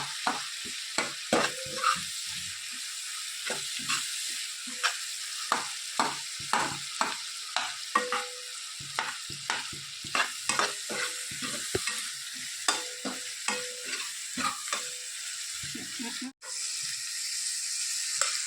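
Potatoes being stirred into a pan with sugar and lemon, repeated scraping and stirring strokes with a soft sizzle underneath, close and fairly quiet.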